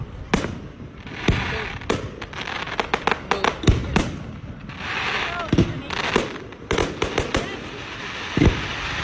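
Fireworks exploding in a rapid string of sharp, loud bangs and crackles, some close and some farther off, with voices murmuring in the background.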